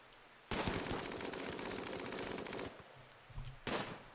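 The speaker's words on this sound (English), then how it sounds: "And now get up close and fire at the hive." Sustained automatic gunfire aimed at an insect hive in the game RimWorld, a dense two-second burst of rapid shots, a short pause with softer thuds, then another burst starting, loud and close.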